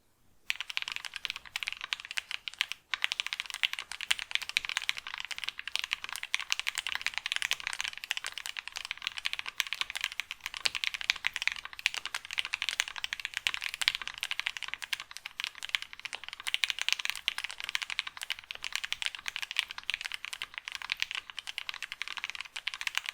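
Rapid, continuous typing on a mechanical keyboard fitted with lubed Turquoise Tealio switches, dense close-up key clacks running steadily throughout with no one talking.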